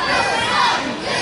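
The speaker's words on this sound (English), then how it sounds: "Well, the crowd does not like the Gambler." A wrestling crowd roars loudly against the heel wrestler known as the Gambler, a dense, steady wall of shouting and jeering voices lasting just over a second.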